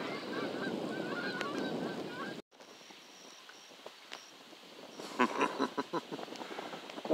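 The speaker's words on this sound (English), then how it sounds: "there's some of the geese that you find out here a lot" Geese honk at a lakeside campground at Waurika Lake, a dense chorus of calls at first, then a quieter stretch with scattered honks and soft outdoor background noise.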